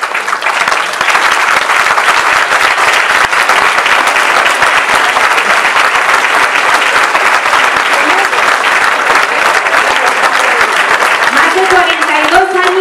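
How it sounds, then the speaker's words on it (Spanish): A loud, sustained round of audience applause for a jota champion at a Navarrese jota school concert in Larraga, steady and full throughout, with faint voices rising near the end. "pido para ella un fuerte aplauso"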